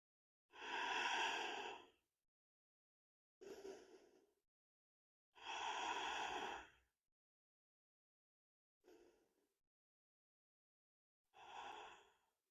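Slow, deep breaths held in yoga pyramid pose: five long airy exhales and inhales alternating with silent pauses, close and clear, the longer breaths full and steady, the shorter ones softer.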